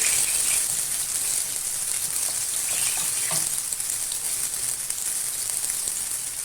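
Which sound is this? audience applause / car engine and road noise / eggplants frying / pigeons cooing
eggplants frying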